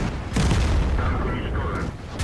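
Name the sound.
tank cannon shot in the video game World of Tanks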